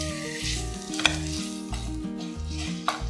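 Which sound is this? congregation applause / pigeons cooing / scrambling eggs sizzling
scrambling eggs sizzling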